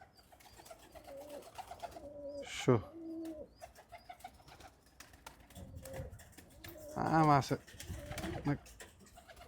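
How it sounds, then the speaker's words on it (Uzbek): Pigeons let out of a loft in Navoiy give soft coos and brief bursts of fluttering wings, fairly near, with someone talking quietly over them. "hozir chiqardik kaptarlarni."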